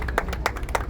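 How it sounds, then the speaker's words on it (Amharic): A church congregation claps together, a few sharp bursts standing out above a steady background of hand claps, fairly close and with no talking over it. "ለዚህ ጌታ ልዩ ጭብጨባ ይሆንለት።"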